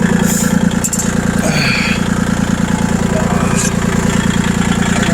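A snow plow tractor with a front bucket and rear blade idles loud and steady, its engine throbbing in an even low rumble, while a voice speaks briefly over it.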